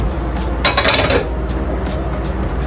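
Kidney beans stirred in a cooking pot for coconut rice and red beans, a spoon scraping and clinking against the pot in a loud burst of rattling, followed by a few lighter knocks.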